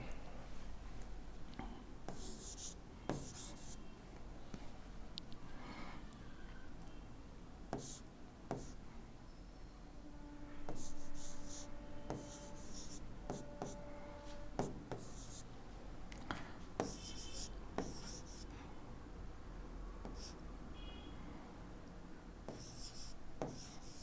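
A pen or marker scratches lines across paper or a board during a coordinate geometry lesson, steady rubbing strokes with light ticks, moderately close and fairly quiet, with brief low talk now and then.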